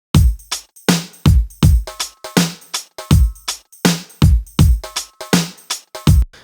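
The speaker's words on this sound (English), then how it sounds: "So the drums are going to sound something like this." A hip hop drum groove programmed in Cubase, with a solo kit playing a steady, loping pattern of punchy kicks and crisp snare hits, looping evenly with no voices over it.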